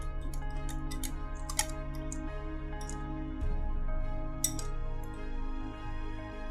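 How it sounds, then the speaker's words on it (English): Whisk or spoon clicking and tapping against a bowl while burger mixture is stirred with black pepper powder, a steady run of sharp light ticks over a constant low hum, with a few louder knocks. "add 1 teaspoon of black pepper powder and whisk it well"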